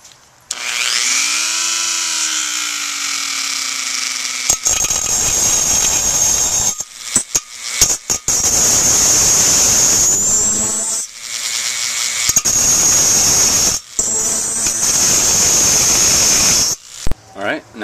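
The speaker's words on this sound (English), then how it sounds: "Now I'm gonna take the cutting tool on the Dremel and I'm gonna cut small slits going inward towards the outer ring" A Dremel rotary tool with a cutting wheel slices slits into a metal can for a packable wood gas stove, giving a loud, steady high-pitched whine that repeatedly stops and restarts between cuts.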